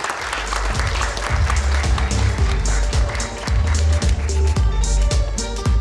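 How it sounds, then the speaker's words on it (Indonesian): A studio audience at an Indonesian election talk show claps loudly and continuously for arriving panelists, the sound thick with rhythmic, bass-heavy music pulsing beneath it. "Tepuk tangannya dong."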